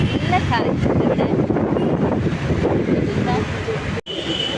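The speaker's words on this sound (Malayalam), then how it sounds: "നല്ല കാറ്റുണ്ട് ഇവിടെ." Strong wind buffets the microphone outdoors near a shopping mall, a loud, continuous rushing roar with people talking underneath it.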